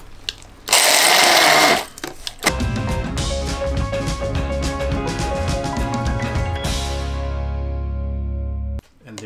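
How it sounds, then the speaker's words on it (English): A kitchen blender purees chilies and lemongrass into a paste, a loud high whir in a short burst, then a longer lower grinding run that cuts off, with clattering near the end. "Our chili is nicely blended"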